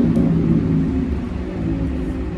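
A motorbike engine passes nearby with a steady low rumble that holds for a couple of seconds.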